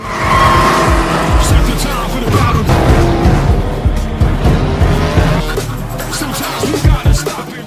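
Cars racing in a Fast and Furious 9 film scene, loud revving engines with repeated tire squeals and skids, with a voice speaking over part of it.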